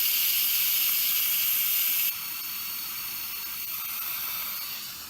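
Steam hisses steadily from an Instant Pot releasing pressure after cooking mac and cheese, a loud bright rush that drops slightly in level partway through and then continues as a softer constant hiss.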